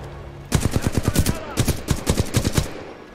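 Rapid hip-fire gunshots from a weapon in the video game Titanfall 2 ring out in two close, loud bursts of sharp, evenly spaced shots after a brief quiet start, with a short pause between the volleys.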